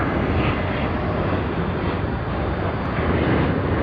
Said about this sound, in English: SQ212. They have begun their takeoff roll.